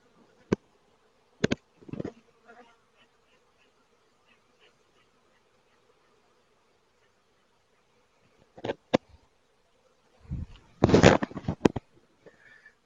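Honeybees during a hive inspection make a faint, steady buzzing drone, broken by a few sharp knocks and bursts of handling noise near the hive, with no talk.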